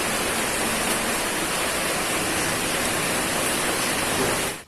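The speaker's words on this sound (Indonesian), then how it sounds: "Hujan nih." Steady, dense rain hisses evenly throughout, a constant wash of noise that cuts off abruptly at the end.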